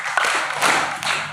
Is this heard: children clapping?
yes